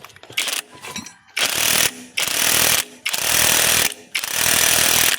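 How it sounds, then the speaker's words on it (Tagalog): A loose bolt on an x4 motorcycle being tightened with a power tool, heard as four loud, harsh, buzzing bursts of about a second each, separated by short pauses, close up with no talking. "Lumuwag yung isang bolt. Okay, higpitan natin."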